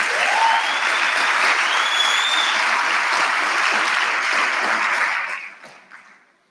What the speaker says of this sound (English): Let's give Dr. Ramoroko a good round of applause.